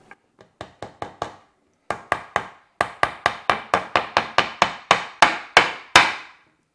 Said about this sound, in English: We're going to hammer this using the back of the device. We have a metal plate in the back, and we're going to go ahead and use that.